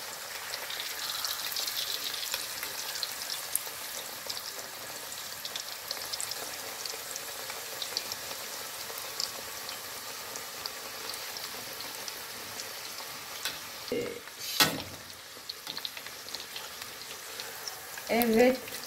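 Tatar raw-meat pastries fry in a pan with a steady close sizzle, broken near the end by a few knocks and clatters as they are turned.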